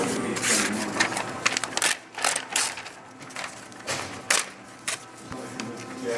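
A Rosback 220 perf slit score machine perforating paper: loud, close mechanical running with uneven clattering pulses and brief pauses over several seconds.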